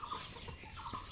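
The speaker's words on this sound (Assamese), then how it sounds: "এই আমাৰ গাঁৱৰ মানুহবিলাকৰ হাঁহ মুৰ্গী এইবিলাক পোহে" Village chickens kept by households in rural Assam, brief close clucking and fowl calls over a busy outdoor background.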